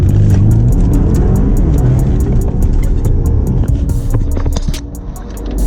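A drag racing car roars loudly and close on a short test pull, a dense engine drone with a rapid ticking rattle over it, easing off slightly near the end.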